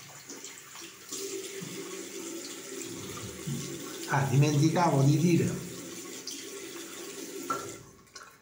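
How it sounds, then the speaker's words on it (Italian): Hot water runs from a tap while the face is wetted before a traditional wet shave, a steady broadband wash that swells louder midway with splashing, and someone talks in Italian over it. "per prima cosa mi bagno il viso con acqua calda."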